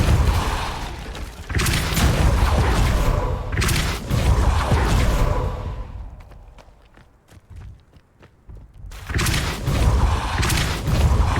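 Depulso force-push spell cast repeatedly in the video game Hogwarts Legacy: loud, dense whooshing bursts with thuds recur in waves, broken by a quieter stretch of scattered clicks before another burst.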